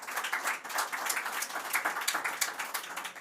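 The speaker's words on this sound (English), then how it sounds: "Let's give the four team a final applause." Audience applause for four debate teams at a young professionals' debate event, a steady dense patter of many hands clapping throughout, moderately loud and without talk.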